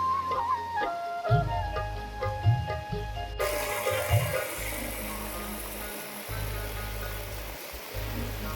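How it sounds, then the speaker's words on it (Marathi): Water gushes from many taps at the Ganesh temple in Sarangkot, Pokhara, a steady splashing rush that swells louder partway through and keeps pouring continuously. "जे पाणी पडत आहे ना खूप नळे असे दूर दूरपर्यंत पाणी जाते"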